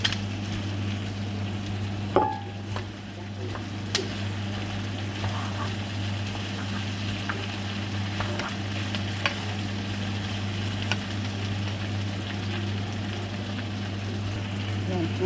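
Potatoes fry with chicken in a pan, a steady close sizzle with a constant low hum beneath it and occasional stirring clinks and taps.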